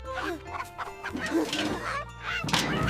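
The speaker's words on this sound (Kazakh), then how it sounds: "Арман әдейі шелекпен қатты дыбыс шығарып, тауықтарды үркітіп жіберді." Several chickens cluck and squawk in agitated bursts close by, startled by a loud bucket noise, with a sharp clattering thump near the end.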